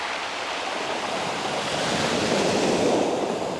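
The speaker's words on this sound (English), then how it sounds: "Waves are supposed to help you go to sleep." Ocean waves break on the beach at Sheringham on the English coast. A close, continuous roar of surf swells slightly louder toward the end, with a little wind noise mixed in.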